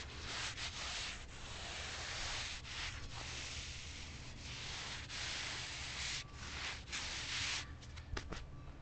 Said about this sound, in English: Push the sand firmly into all the joints.